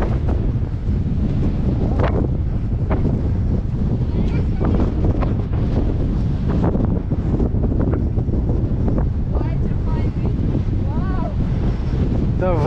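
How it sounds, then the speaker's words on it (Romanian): Strong wind buffets the microphone continuously on a hill on Semenic mountain, Romania, a loud roaring rumble with gusty swells throughout, and faint voices occasionally underneath. "vântul e ca iarna"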